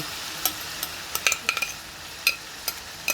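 Marinated pork for minudo hits a pan with garlic and onion, giving a soft sizzle under a series of sharp, irregular clicks and scrapes from stirring, close and without speech.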